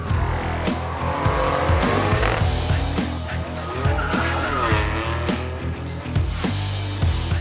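Cars drag racing at the 2021 Valley Run on the Lonavala drag strip in India: loud, continuous engine roar with rising revs and repeated tire squeal, close and dominant throughout.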